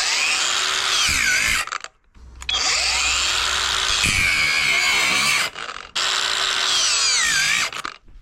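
An angle grinder cuts into a Hiplok D1000 lock, giving a loud, high-pitched metallic whine that runs in three long bursts, with brief drops in pitch as it bogs down and two short silent gaps between cuts.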